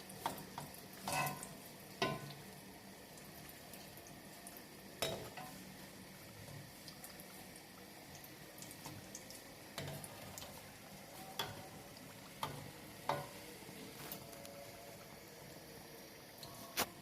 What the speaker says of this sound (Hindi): इन्हें आपने लो टू मीडियम आंच पे फ्राई करना है